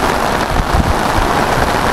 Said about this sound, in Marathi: पाऊस जोरात चालू आहे बघा, जोरात पाऊस झाला।